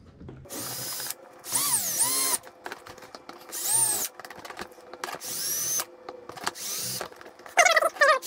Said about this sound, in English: got my drill, I'm gonna try to drill them out